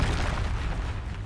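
The Confringo fire spell in Hogwarts Legacy bursts with a deep, rumbling boom that fills the whole short moment and slowly fades.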